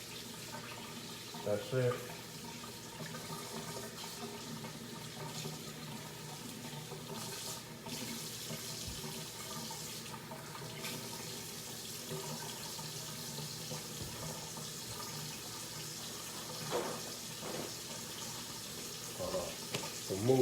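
Tap water runs steadily into a kitchen sink as raw oxtails are rinsed under it, a continuous close splashing hiss with occasional knocks and handling, while a person talks briefly over it.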